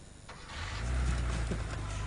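A car engine cranks briefly and catches, settling into a steady low rumble up close.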